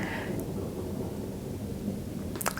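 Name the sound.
thunder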